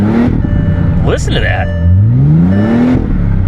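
A Bentley engine with half its cylinders not working revs up under a person talking, a deep rising drone sweeping upward twice, loud and close, with brief higher noise in the middle.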